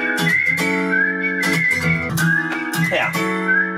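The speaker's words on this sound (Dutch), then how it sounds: "daar moet ik ook wel een fluitje bij" A person whistles a melody over an acoustic guitar-based backing track, the tune steady and prominent throughout with short pauses between phrases.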